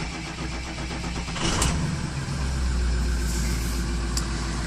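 A 2006 Ford F-350 diesel cranks and fires on its first cold start of the day at about 2 °C, settling into a loud, close, rattling idle with steady injector clatter.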